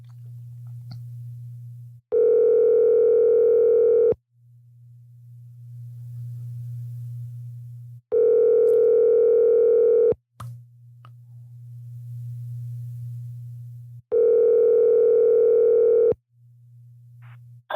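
A telephone ringback tone sounds while a call is placed, three long, loud, evenly spaced tone bursts separated by quieter low humming gaps.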